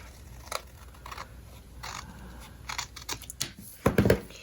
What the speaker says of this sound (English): I have just a little tiny bit hanging over, so I'm going to just trim that up